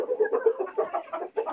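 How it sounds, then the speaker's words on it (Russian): A Moscow Region Korolek rooster clucks and murmurs in a quick, continuous series of throaty calls, close by and fairly loud, with no other sounds. "привез одного петушка"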